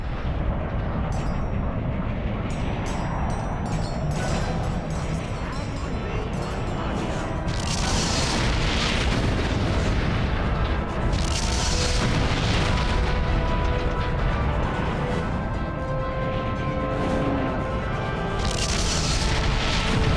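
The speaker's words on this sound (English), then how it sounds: "Flashbang." Flashbang blasts go off in the video game Ratchet & Clank: Tools of Destruction, a dense run of loud booming bursts over continuous game music and effects, with no speech.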